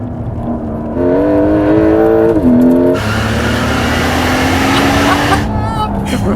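A 2026 Porsche 911 Turbo S T-Hybrid with a twin-eTurbo engine accelerates hard, its rising engine note climbing loud and close, then steadying into a sustained roar, with a brief tire-like squeal near the end.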